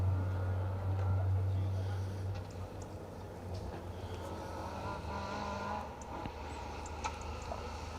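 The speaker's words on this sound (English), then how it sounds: "that Corolla AE86 rolled into the finish here" A Toyota Corolla AE86 rally car idles and creeps at the stage finish of a forest rally, a low steady engine rumble throughout with a commentator talking over it.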